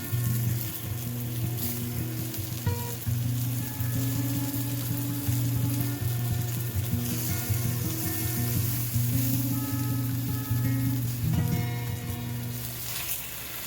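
Floured eggplant slices frying in a pan, a steady dense sizzle and spatter that runs the whole time with a low continuous hum beneath and no break in the crackle.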